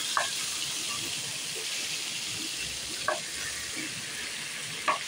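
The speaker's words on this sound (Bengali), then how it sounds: "এবার টমেটো আদা পেস্টটা দিয়ে দেবো।" Tomato-ginger paste fries in oil with cumin and bay leaf, a steady nearby sizzle with occasional soft stirring scrapes and small spatters throughout.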